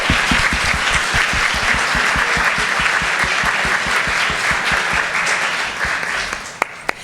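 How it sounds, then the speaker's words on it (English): Sustained audience applause for a women-in-STEM conference panel, dense steady clapping from a large crowd that carries at full strength for about six seconds before thinning out, with a couple of sharp final claps standing alone. "If you could join me in giving them a round of applause."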